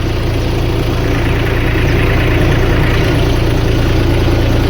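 A tractor engine runs loud and close with a steady, throbbing low rumble and unchanging idle-like chugging that holds for the full few seconds without pause.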